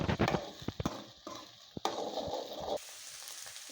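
Eggs fry in a hot pan while a spatula breaks them into large pieces, with sizzling under sharp scraping clatters and a few knocks, the sizzle steady before dropping quieter near the end.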